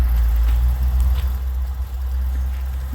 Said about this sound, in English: Ooh, I left my truck running.